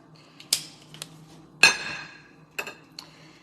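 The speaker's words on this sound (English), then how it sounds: "See how good a scissor does? This is a kitchen scissor." Kitchen scissors snip through crab legs in a handful of sharp, bright clicks and cracks, one louder crunch ringing out in the middle, against a quiet background.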